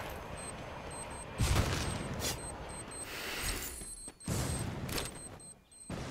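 Bomb blasts and rapid gunfire from a competitive shooter video game match, with several heavy bursts and booms recurring over a busy background of game effects.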